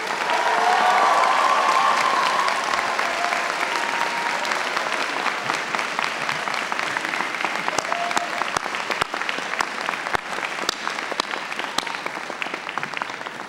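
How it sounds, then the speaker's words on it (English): Graduates at a commencement ceremony give their parents and families a boisterous round of applause, loud dense clapping from a large crowd that holds steady and thins into scattered claps toward the end. "give a boisterous round of applause to your parents and"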